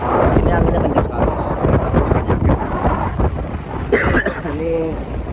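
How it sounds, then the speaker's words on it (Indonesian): Strong sea wind buffets the microphone on an open ferry deck crossing from Merak harbour at sunset, a loud, steady roar with low rumbling gusts throughout and a brief voice near the end. "Ini anginnya kencang sekali."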